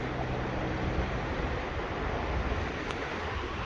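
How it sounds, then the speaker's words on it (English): A boulder-strewn mountain creek lined with trees at about 9,000 feet rushes steadily outdoors, its broadband wash of flowing water continuous and fairly loud for the whole stretch, with no voices. "you just get the pure mountain stream"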